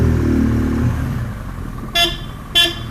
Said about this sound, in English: The best part is when you honk, it's going to give a bleep bleep